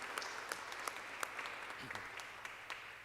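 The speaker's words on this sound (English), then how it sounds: "we can give him a round of applause" A council chamber crowd gives a round of applause for a girls' high school swim team, steady clapping from many hands with a few sharper claps standing out, some faint voices mixed in.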